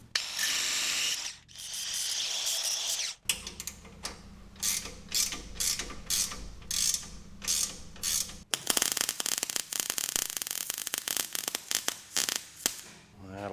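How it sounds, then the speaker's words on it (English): A ratchet tightens the bolt on a fuel tank strap during a Prado tank install in an FJ45 Land Cruiser restoration, producing close, loud bursts of rapid clicking in short repeated strokes, joined by harsher grinding mechanical noise near the end. "bolt up on the top of that, and that will tighten that tank strap"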